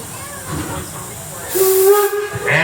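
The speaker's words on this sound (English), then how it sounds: "And there's the whistle." The steam whistle of D&LN No. 7, a steam locomotive on its final 2024 run, gives one short, clear blast over a bed of hissing steam, with a brief rise in noise just after.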